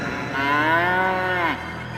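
A large black water buffalo bellowing, one loud, close, drawn-out low moaning call lasting over a second before dropping off, with no talk over it.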